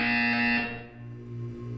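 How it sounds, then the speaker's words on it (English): Loud, steady electronic buzzer in a Portal 2 test chamber, a bright harmonic drone lasting about half a second before cutting off into a quieter hum. "You will hear a buzzer."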